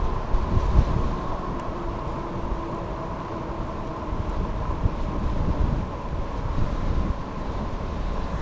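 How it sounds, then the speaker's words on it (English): Wind roars steadily across the microphone during a bike ride, a low continuous rumble with gusty swells and no voices. "this is one windy trip"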